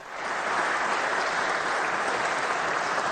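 An audience applauds steadily at a formal speech, a dense, even wash of clapping that swells in quickly and holds at a moderate level.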